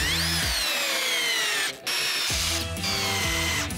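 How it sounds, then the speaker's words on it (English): A power drill boring holes into live tree wood, its motor whining and shifting pitch as it bites, cut by a short pause and then resuming, close and loud with no talking. "I drilled a few holes just to get a little bit more surface area"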